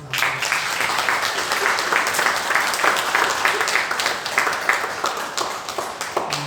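Applause from a church congregation during a service, dense steady clapping that fills the room from start to finish at an even, fairly loud level.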